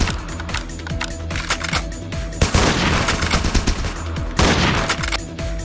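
Rapid bursts of video game gunfire from a pump shotgun crackle throughout, with several loud blasts standing out against a dense, busy mix of in-game action.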